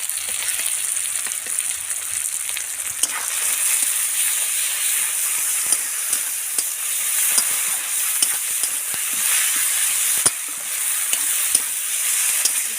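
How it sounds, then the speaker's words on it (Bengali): A paste of ginger, garlic, a little cumin, coriander and dried red chilli sizzles hard in a pan for a jackfruit and prawn curry, a loud continuous hiss lasting the whole stretch with small crackles and stirring. "ভালো করে আমি ভেজে নেব যতক্ষণ না কাঁচা গন্ধ করি"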